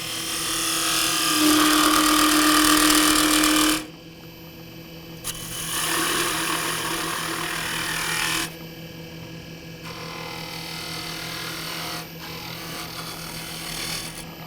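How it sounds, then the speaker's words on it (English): A 3/8-inch spindle gouge cuts a wooden kitchen scoop spinning on a lathe, making a close, hissing scrape in long passes separated by quieter pauses. A faint motor hum continues underneath. "And I'll switch to a 3/8-inch spindle gouge."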